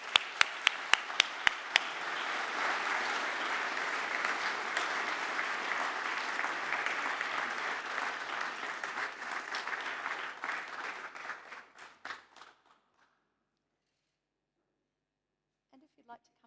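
Audience applause at the Science New Zealand Awards 2026 ceremony as winners go up to collect their award. It opens with a few loud single claps, then swells into steady crowd clapping for about ten seconds and fades to silence.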